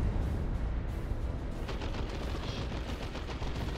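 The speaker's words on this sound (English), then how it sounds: "Oh, reliable grenade launcher." Grenade launcher fire and explosions in a Dawn of War 2 battle, a dense, loud continuous roar of blasts and gunfire with bursts of crackling impacts throughout.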